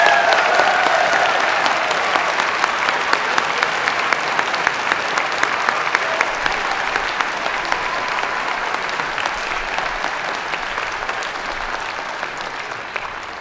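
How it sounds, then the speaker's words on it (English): Sustained, dense applause from a large convocation audience honouring student award winners, even and continuous for the whole stretch and slowly easing toward the end. "please join me in a round of applause congratulating our Student Award winners!"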